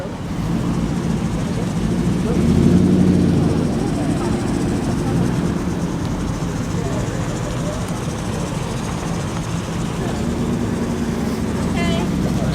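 Steady low engine rumble from idling classic cars, including Triumph Stags and a four-cylinder Triumph TR4, a broad drone that swells briefly then holds, with voices talking faintly in the background.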